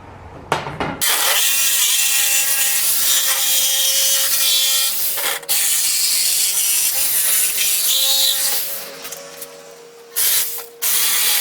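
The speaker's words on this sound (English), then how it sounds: "So I'm going to drill through this way, but then jigsaw on the opposite side" A jigsaw cuts through wood for an RV bed frame modification, a loud, continuous rasping buzz close by that runs for several seconds with brief pauses and restarts near the end, with no voices.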